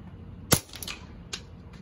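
Suppressed .22 long rifle subsonic gunshots, a sharp, quiet crack followed by a second softer report about a second later, outdoors with low background noise.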